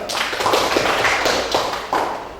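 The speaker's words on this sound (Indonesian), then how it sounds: "Tepuk tangan yuk." Classroom applause from a group of students, a steady burst of many hands clapping with irregular rhythm, fairly close and continuous for a couple of seconds without talk.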